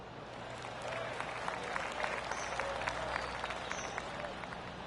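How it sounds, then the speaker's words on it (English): A golf gallery in the PGA Tour 2K25 video game gives a soft, steady round of clapping from many spectators. It swells slightly after the first second and stays fairly quiet and even. "Oh, golf clap."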